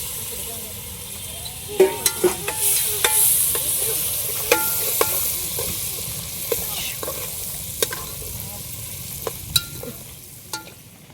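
Finely chopped potatoes hitting hot oil with whole garam masala and turmeric in a pan at an outdoor camp cooking spot: steady sizzle with repeated sharp scraping clicks of stirring, close and alone.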